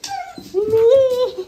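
Dog whimpering close by in a few short, high, rising whines, loud and plaintive, with brief pauses between cries.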